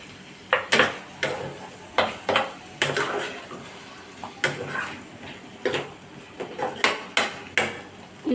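Bottle gourd chicken fry being stirred in a pan, a run of sharp clinks and scrapes from a utensil against metal coming in uneven bursts, close and fairly clear, with no talking.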